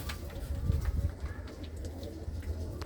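Pigeons of mixed breeds in a loft give low, soft, rhythmic cooing, close and fairly quiet, with light rustling and a few faint chirps over a steady hum.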